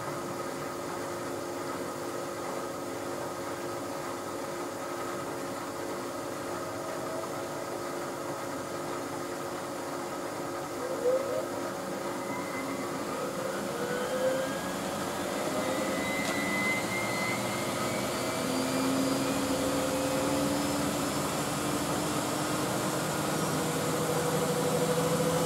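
A Hoover Electra washing machine spins up on its final spin cycle, giving a steady, moderately loud whine with tones that rise in pitch as the drum speeds up, with no voices.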